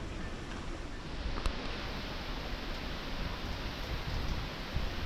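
Heavy rain from Hurricane Beryl pours down in Grenada as a dense, steady hiss of falling water, with a few brief louder spatters along the way. No voices are heard.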